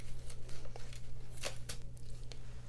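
Quilling paper strips peel away from a Cricut cutting mat as it is bent, giving short crisp tearing and crinkling bursts over a low steady hum.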